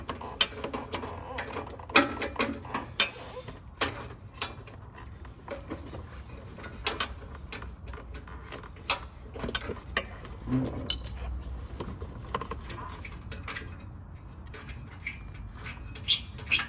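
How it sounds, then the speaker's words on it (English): Wrench clicks and metallic clinks from removing two nuts underneath a GR86 during an oil pan baffle install, scattered ratcheting taps and light rattles at close range with no talking. "pull these 2 nuts off"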